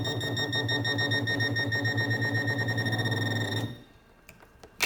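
A Pro Pointer 2 pinpointer metal detector gives off a loud, continuous rapid pulsing beep that stops abruptly after about three and a half seconds, followed by quiet handling noise and a click.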